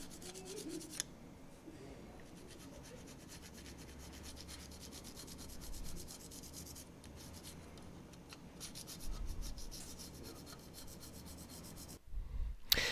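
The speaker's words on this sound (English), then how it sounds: "You really do need to scrape them off." A scraper rubs steadily against the painted casing of an Ampex VR-1200B video recorder, working stuck bits of tape off the paint with a continuous close scratching that swells and eases. A sharp knock comes near the end, and no one speaks.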